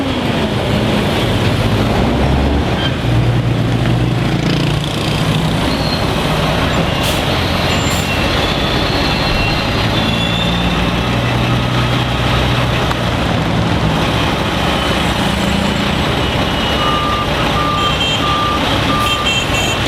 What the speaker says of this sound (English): Traffic grinding to a halt for a while.